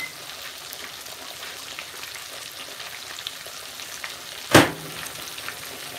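Cornmeal-coated catfish deep frying in hot oil gives a steady, close sizzling hiss throughout, with one brief louder crackling burst partway through.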